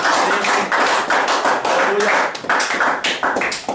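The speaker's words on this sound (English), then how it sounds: "Clap offering to God." A church congregation claps during a prayer session, loud and close, with sharp individual claps in an uneven rhythm and brief gaps between bursts.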